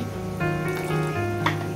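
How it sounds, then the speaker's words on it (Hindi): Water pours and trickles steadily into thick semolina dhokla batter, with a faint background hum throughout and a brief splash near the end. "हल्का से पानी भी ऐड कर सकते हो"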